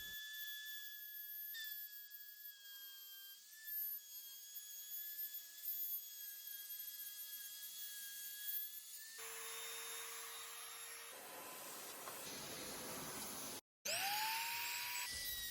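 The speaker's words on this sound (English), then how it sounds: "So here I'm using a 3/8 of an inch bit on the router." Router with a 3/8 inch bit cutting wood for a bread box, a loud sustained high whine that shifts pitch as the bit bites in, turning harsher and noisier toward the end with a short cutoff; no voices.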